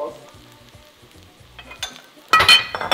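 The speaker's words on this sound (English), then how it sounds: "add your broth" Chicken-flavored broth hits a hot pan with seafood jollof risotto, a sudden loud hiss and sizzle bursting out after a quieter stretch of low stirring and frying, close and fading into crackling.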